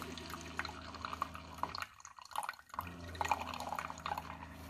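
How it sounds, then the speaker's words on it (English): A Mr. Coffee K-cup single-serve coffee maker, model BVMC-SC500-2, begins its brew cycle with faint drips and trickling into a cup, pausing briefly in the middle before the trickle resumes, quiet and close. "Okay, so it's been about 2 minutes and it's starting the brew process."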